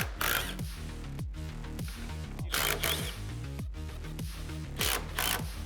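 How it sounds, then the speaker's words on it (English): A ratchet or wrench works loose three 15mm bolts during a coilover install on a 2015–2024 Mustang, giving repeated bursts of close mechanical clicking and rasping, heard alone with no talking. "Next up, you'll loosen these 3 15mm bolts."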